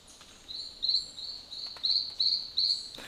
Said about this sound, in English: I hear all these birds calling